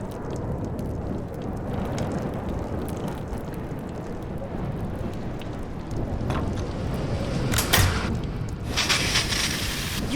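A storm in the game Life is Strange Remastered, with a steady roar of wind and rain and occasional brief gusts or cracks, dense and unbroken throughout.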